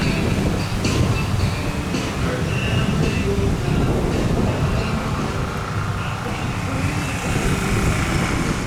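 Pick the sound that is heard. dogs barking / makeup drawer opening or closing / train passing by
train passing by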